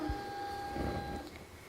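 The built-in printer of a CRiSis CPR training manikin prints out test results with a faint, steady mechanical whir and a thin whine, quiet and close, with no voices over it.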